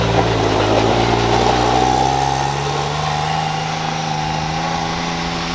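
A 200-horsepower Can-Am X3 side-by-side idles while warming up, a loud, close, steady engine drone that eases slightly partway through.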